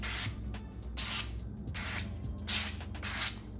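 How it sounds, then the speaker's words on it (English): Non-stick cooking spray is misted onto raw chicken breasts and thighs before grilling, in a handful of short, sharp hissing bursts separated by brief quiet gaps, close and fairly soft. "hit it with a little bit of non-stick cooking spray"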